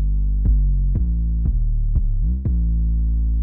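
Five deep, booming 808 bass notes with a low-cut EQ applied, struck at an even pace about half a second apart, each one sustaining smoothly into the next, with no one talking.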